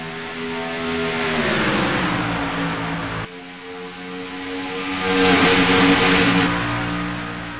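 Several Piston Cup race cars roar and accelerate together at Charlotte Motor Speedway at the start of the N2O Cola 600, loud sustained engine drone with rising pitch and a swelling pass-by surge, no talk.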